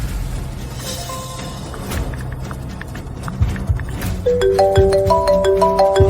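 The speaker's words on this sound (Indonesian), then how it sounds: "Aku telepon Tante Li." A phone call rings out late at night, its ringtone sounding as a repeating, electronic melodic pattern that comes in louder over the last two seconds above a low background hum.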